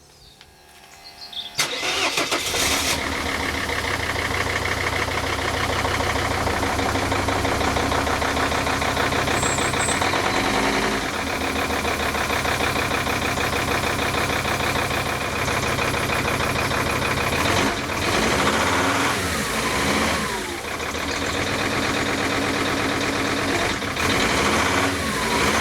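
A Mercedes ML engine with replaced injectors, being treated with an engine cleaning additive, cranks and catches, then settles into a loud, steady idle that runs close up for the rest of the clip.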